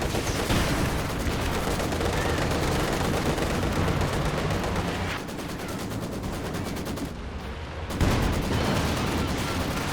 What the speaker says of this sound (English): Another Werfer coming in for Kimbo now.